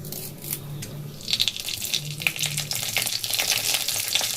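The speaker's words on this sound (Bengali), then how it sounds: "কড়াইয়ে আমি তেল দিয়ে দিয়েছি, আর দিয়ে দেবো এখানে আমি সর্ষে," Mustard seeds and curry leaves crackle and sizzle in hot oil in a wok, a steady close frying hiss with sharp popping spatters growing busier midway, no talking.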